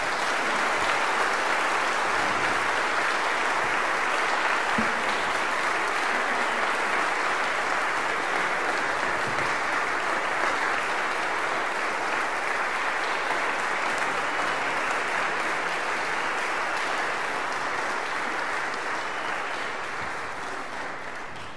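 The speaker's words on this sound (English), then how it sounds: "give a round of applause for our seniors" A church congregation gives a sustained round of applause for its seniors during Pentecost morning worship, a steady dense wash of clapping that holds loud throughout and tapers slightly at the end.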